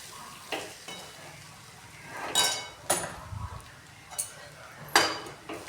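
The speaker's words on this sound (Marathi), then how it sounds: "मी त्यावर चमच्याने मिक्स करत आहे" A spoon scrapes and clinks against a pan as soaked poha is mixed in, producing intermittent metallic knocks and soft stirring over a faint background sizzle.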